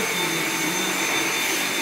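A Dyson vacuum cleaner runs continuously with a steady, high-pitched motor whine and airy rush, close and even in level throughout, with no talking over it.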